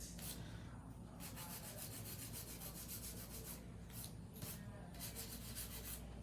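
Acrylic nails being filed by hand with a nail file during a nail art session: a steady, continuous scratchy rubbing close by, with brief strokes breaking through the constant texture and no talking.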